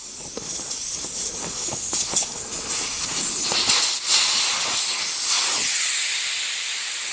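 Air hisses steadily out of a lawn and garden tire once its valve stem core is spun out, a loud, continuous broadband rush that lasts the whole stretch with slight surges and no talking.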